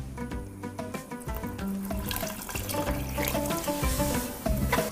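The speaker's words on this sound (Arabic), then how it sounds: "كنزيدو الماء الكافي" Water is poured into a cooking pot of chicken and onions being prepared on the stove, a gurgling, splashing flow under clattering kitchen sounds and a faint low hum.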